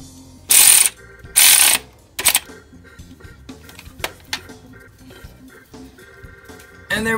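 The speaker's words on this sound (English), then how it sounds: "Now we put our 10mm freaking screw back on." A ratchet tightening a 10mm screw on a transmission cooler filter part of a 2012 Nissan Versa SV 1.6L CVT, giving close bursts of quick clicking ratchet strokes, then softer scattered clicks and mechanical handling noises.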